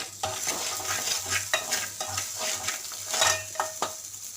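Spices fry in a pan with salt and chili under a constant sizzle, while a spoon scrapes and knocks against the pan in quick irregular strokes, close up and without talk.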